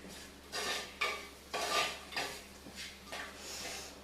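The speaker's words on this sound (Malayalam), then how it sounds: "ഈ പൊടികളെല്ലാം ഈ മസാലയിൽ നിന്ന് ചൂടാക്കെ നല്ലൊരു സ്മെല്ല് വരുന്നവരെ" Spice powders are stirred into chicken curry masala in a pan, giving repeated scraping strokes of a spoon against the pan at an even rhythm, close and moderately loud, with a faint sizzle underneath and no talking.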